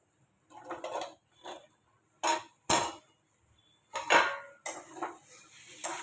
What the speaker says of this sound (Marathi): चला आता झाकण काढून बघते मटकी झाली का नाही